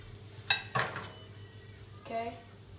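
Flathead fish laid skin side down into a hot buttered pan, with a couple of sharp clatters and hisses as pieces go in, then a short sizzle burst; fairly quiet overall.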